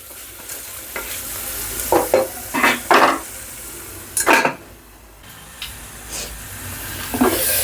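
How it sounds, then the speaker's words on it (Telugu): Chopped carrots and beans being stirred and fried in a pan while cooking dal khichdi, with a steady background sizzle broken by several sharp scraping stirs of a spoon against the pan, close and loud. "వీటిని మధ్య మధ్యలో కలుపుకుంటూ ఒక 2 నిమిషాలు వేపుకుందాము"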